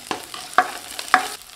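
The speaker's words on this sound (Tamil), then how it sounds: "பூண்டு பல் பொடியாக நறுக்கி வச்சுருக்குங்க இதை சேர்த்து நல்லா வதக்கி விட்டுக்கலாம்" Chopped garlic and green chili sautéing in a pan, with three sharp stirring scrapes spaced about half a second apart over a soft, continuous sizzle.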